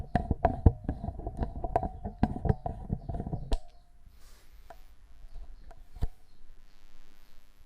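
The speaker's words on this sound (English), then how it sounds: "Excuse the noise of the tripod." A camera tripod is handled and shifted while filming a PC game collection. Close clattering knocks and clicks come rapidly for a few seconds, then thin out to sparse, faint ticks over near silence.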